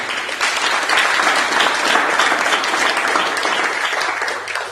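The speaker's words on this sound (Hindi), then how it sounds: "तालियां बजाइए ठाकुर जी के लिए" Loud, dense applause from a seminar audience at a network marketing business meeting, continuous clapping from many people that holds steady for several seconds before tapering slightly at the end.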